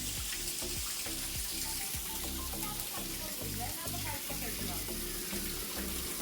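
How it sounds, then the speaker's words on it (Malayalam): Pond water pumped into a catfish tank pours in as a steady, continuous rush and splash of flowing water, close and even in loudness throughout. "കുളത്തിലെ വെള്ളം തന്നെ ഉണ്ടാ ഈ പമ്പ് ചെയ്യണത്"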